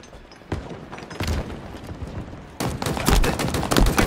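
Video game gunfire, a burst of rapid shots followed by a denser, sustained volley of fire, loud and close with no talk over it.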